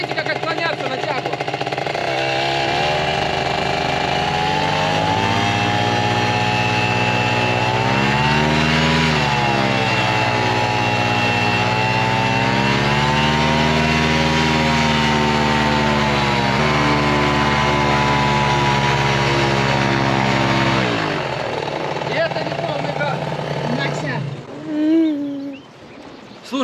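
A small paramotor engine roars loudly and continuously, its pitch rising and falling as the throttle changes, then cuts out near the end as voices follow.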